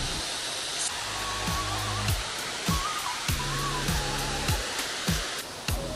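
Katibawasan Falls, a waterfall in Camiguin, pours with a steady broadband roar of rushing water, moderately loud and constant, while repeated low thumps and knocks sound close by.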